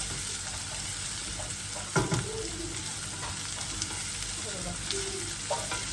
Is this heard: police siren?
no